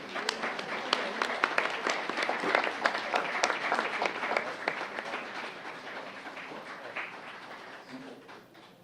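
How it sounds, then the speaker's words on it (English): Audience at a town council meeting clapping in a steady round of applause lasting several seconds, a dense crackle of many hands at moderate distance that slowly tapers off. "Let's give them a round of applause."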